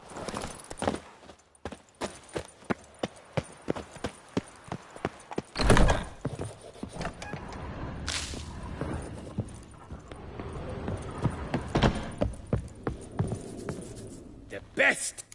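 Hooves of the horse Roach clop in The Witcher 3: Blood and Wine, a run of sharp, evenly spaced strikes with a few louder bursts and a soft background hum, with a voice briefly present.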